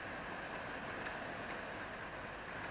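Strong, gusty easterly wind blowing in from the sea during a levante storm, a steady broadband roar with faint periodic gust surges throughout.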